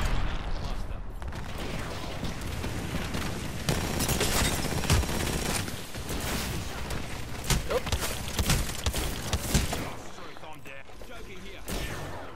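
Rapid gunfire in the video game Apex Legends, dense bursts and shots overlapping with mechanical clicks, continuous and loud with occasional talk over it.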